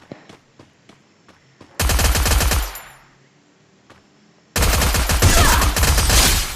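Rapid automatic gunfire from the Free Fire video game comes in two long, loud bursts, with a few isolated sharp shots and quiet gaps between them.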